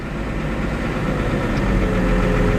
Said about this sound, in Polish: Puszczamy sobie sprzęgło, ciągnik rusza.